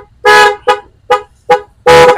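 A car's dual horn honks five loud, close, harmonically rich blasts, the first and last held longer and the middle three short, with quiet pauses between.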